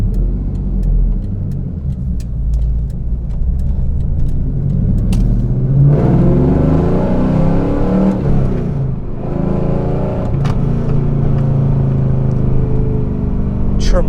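A 1999 Pontiac Firebird Trans Am WS6 with SLP performance exhaust and headers, its engine idling in a steady rumble before revving up in two strong, loud throaty bursts, close by.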